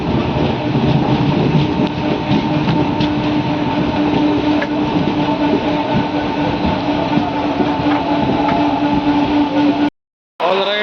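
Vijaypura Mangaluru Express rolling into Mangaluru Central station, a steady loud rumble of wheels and carriages with a sustained hum throughout, cutting off near the end.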